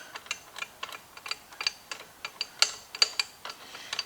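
Ratchet wrench loosening a bolt on the power steering pump of a 1995 Buick LeSabre, producing a rapid, regular series of close, crisp clicks with no talk.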